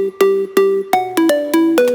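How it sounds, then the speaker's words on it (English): Synth bass in a 90s house style made in Ableton, layered with Shaper Box white noise, plays a short bouncy line of plucky notes with bright noisy attacks, loud and dry, no talking. "a shaper box that adds like a white noise on top of it"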